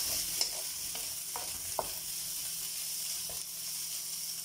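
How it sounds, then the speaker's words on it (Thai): Rice mixed with egg and boiled pumpkin stir-fried with garlic and chili for a vegetarian basil dish, a steady close sizzle broken by a few light scrapes of the utensil against the pan, with no talking. "คลุกหมดทุกอย่างนะคะตัวนี้ใส่ไข่ลงไปเลยเนาะแล้วก็ใส่ฟักทองนะคะ"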